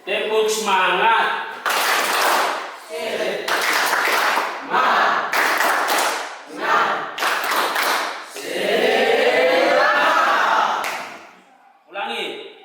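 A university class stands and performs the 'tepuk semangat' rhythmic clapping chant, with bursts of group clapping alternating with shouted voices in a classroom, loud and close, repeated in several short sections.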